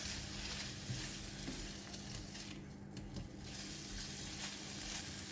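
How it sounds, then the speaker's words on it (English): Prawns frying in a pan for seafood vermicelli, a faint, steady hiss and crackle of hot oil throughout with a short dip midway, no voices. "Flip the prawns to another side and continue to cook for 45 seconds."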